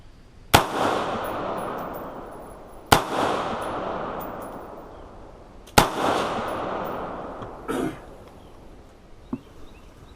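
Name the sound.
rifle gunshots, 5.56 NATO upper at range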